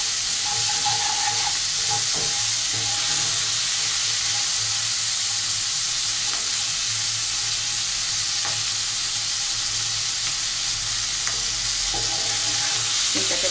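Flat beans stir-frying in a pan give a constant loud sizzle with a steady hiss, broken now and then by faint scrapes and clicks of stirring, close up and without talk.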